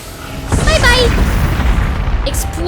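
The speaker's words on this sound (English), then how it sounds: "Explosion." An explosion from a mech battle in Zelda: Tears of the Kingdom erupts with a loud boom at about half a second, then a long rumbling tail that carries to the end of the clip under game sound effects.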